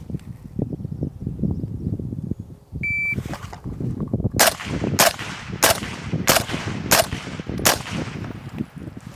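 A shot timer gives one short electronic beep, followed by six loud, evenly spaced shots from a Scar-H .308 battle rifle at an outdoor range, with rustling and handling noise before the beep.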